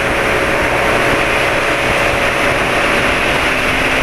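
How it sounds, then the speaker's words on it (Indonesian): A motorbike engine runs steadily and smoothly with cooking oil mixed into its engine oil, a constant loud hum with a faint whine and no voices. "Habis digeber suara mesin tetap halus."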